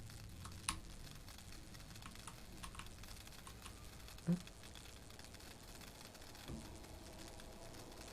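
Quiet, scattered clicks of computer keys being pressed, irregular and close, with one slightly louder tap partway through.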